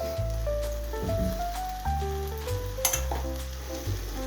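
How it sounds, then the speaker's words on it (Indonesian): Tuna fried rice with lemongrass and kencur sizzles as it is stir-fried in a pan, a soft continuous frying hiss under prominent background music with a clear melody and bass. "ini kita tumis ya sampai benar-benar matang"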